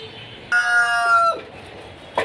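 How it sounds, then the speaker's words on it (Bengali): A rooster crows loudly and close by, a single drawn-out call, followed by a brief cluck at the end, among clucking hens at a rooftop garden. "ককর কক মুরগির ডাকাডাকি কারণে কথাও বলা যায় না"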